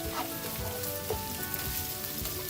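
Curry paste sizzling and frying steadily in a wok over lowered heat for ghee rice stir fry, a continuous close crackle with faint scraping and no talk.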